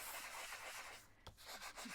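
Quiet, brisk rubbing of sandpaper across a paper postcard, a soft rasping scratch that briefly pauses and resumes.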